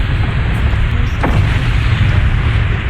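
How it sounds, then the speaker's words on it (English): In the MechWarrior Online video game, an incoming missile strikes a Nova Cat mech with a loud, heavy boom over a steady low rumble, held as one sustained blast that fills the whole moment. "Warning, incoming missile."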